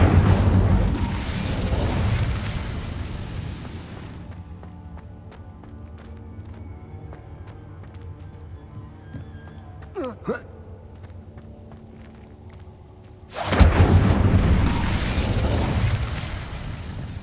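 The Incendio fire spell in Hogwarts Legacy erupts in two loud, roaring bursts of flame at the start and near the end. A quieter stretch in between holds a brief whooshing sweep.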